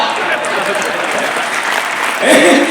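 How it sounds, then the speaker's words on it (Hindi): Audience applause at a live comedy show erupts loud and close, a dense continuous clatter of clapping that swells slightly near the end, with a voice calling out briefly. "ताली बजा।"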